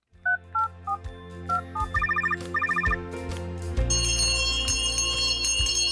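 Bright electronic telephone tones play a short dialing sequence of beeps and trills, followed by a denser ringing chime that swells and sustains loudly to the end, with no voices.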